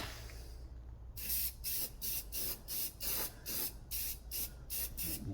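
A spray can applies rust converter on a 1965 Chevy, giving a series of about nine short hissing bursts in a steady rhythm, close and loud.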